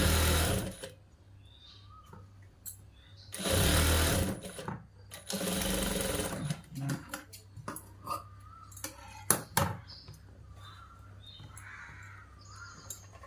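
Sewing machine stitching a boys' school uniform shirt, with loud close bursts of motor whir and needle clatter in several runs of a second or two, separated by pauses with handling clicks and faint bird caws.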